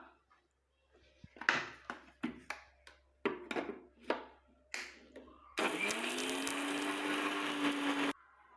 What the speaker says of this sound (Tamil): மிக்சியில் போட்டு நீங்கள் அடித்து எடுத்துகிட்டு வந்துடலாம்